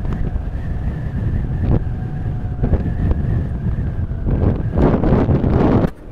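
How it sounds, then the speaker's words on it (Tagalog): Strong wind roars against the microphone while riding a motorcycle, a constant buffeting rush that swells in gusts over a faint engine whine. "Lumalakas yung hangin eh."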